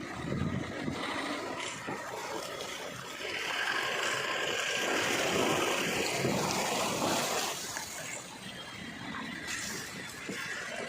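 Meltwater rushing out beneath a 25–30 ft high ice glacier near Sonamarg and Zojila Pass, a steady broadband roar and gush, close and continuous, with no voices.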